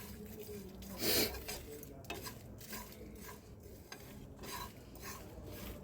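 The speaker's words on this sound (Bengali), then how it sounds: "এবার আবার একটু নাড়তে থাকবো।" Chaat masala spice mix being stirred in a pan over medium heat, a steady scraping and rustling of a utensil against the pan with faint light clinks, continuous and moderately quiet.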